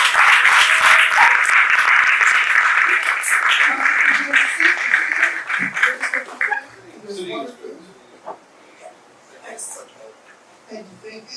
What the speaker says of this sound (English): please give a huge, warm round of applause for Mr.